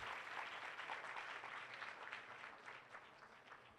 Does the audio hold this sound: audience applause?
yes